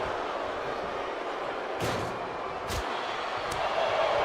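An alley-oop bomb slam in the wrestling video game WWE 2K25, a couple of brief heavy thuds landing under a constant roaring crowd.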